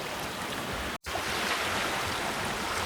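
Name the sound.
sailboat running downwind through waves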